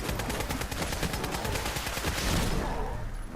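Rapid automatic gunfire in Fallout 4 rattles in a fast, even burst of close, loud shots for about two and a half seconds before cutting off into a brief fading tail.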